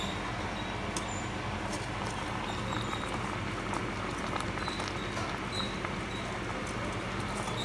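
A steady, dense bubbling and crackling of water boiling in a pot for kabsa rice, continuous and close, with no voices.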